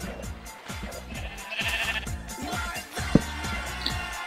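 A Minecraft sheep bleats repeatedly in a wavering, nasal cry over steady rhythmic background noise, fairly loud and close.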